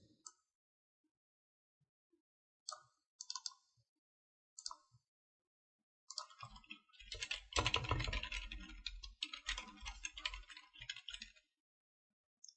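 Keystrokes on a computer keyboard, a few isolated taps at first, then a dense burst of fast, clattering typing close to the mic before it trails off into silence.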